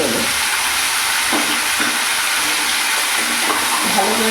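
Chickpeas being stirred in a hot pan for a vegetarian pumpkin curry give off a steady sizzle, with a few soft scraping strokes as the spoon moves through them.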